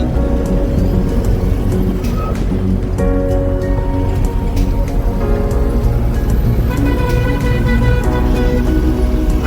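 An overloaded truck driving along a road to an onion market, a loud continuous engine drone and rumble from inside the cab with steady road noise and no letup.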